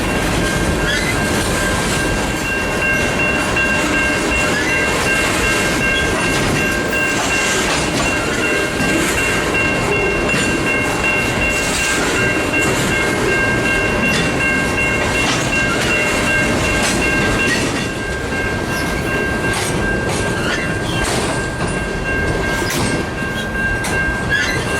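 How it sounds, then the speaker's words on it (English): KCS GP40-3 locomotive 2961 leads an eastbound freight near New Orleans, a steady loud rumble of rolling cars and clacking wheels running the whole time with sustained horn-like tones held above it, no voices. "KCS GP40-3 2961 leads the 303 job eastbound with a killer RS5T horn."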